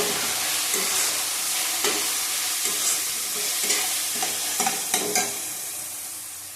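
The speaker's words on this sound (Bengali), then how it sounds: "টমেটো দিয়ে দিলাম, ভালো করে কষিয়ে নেব" Chicken with tomato is stirred and fried in a pan for a raw-mango chicken dish, producing a dense, continuous sizzle with regular spatula scrapes, close up and without talk, fading slightly at the end.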